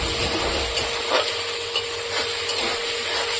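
Masala frying in a pan while being stirred, a steady soft sizzle with light scraping and rubbing strokes of the spoon, close and continuous with no talking.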